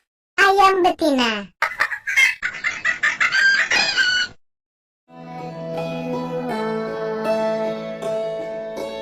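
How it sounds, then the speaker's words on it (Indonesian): A hen clucks and squawks in quick loud bursts, close up, then cackling gives way to a steady tonal musical passage after a brief pause. "Ayam betina."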